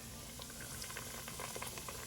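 Chicken fried steak frying in oil heated to 350 degrees in a Staub cast iron pan, a steady dense sizzle and bubbling crackle holding evenly throughout, close and fairly quiet, with no talking.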